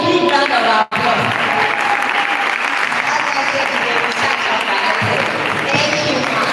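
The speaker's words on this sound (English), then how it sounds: "Please give her a big round of applause." Audience at a university food week event applauding in dense, sustained clapping after a brief break near the start, with some talk mixed in.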